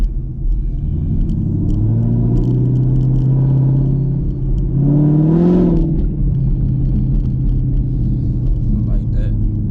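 A tuned 2021 Chevrolet Camaro SS rumbles at idle, then its engine revs up in one brief surge and settles back to a deep, steady idle, close and loud.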